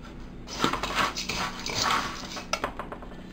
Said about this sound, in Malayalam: ആദ്യം നമുക്ക് മല്ലി വറുക്കാം.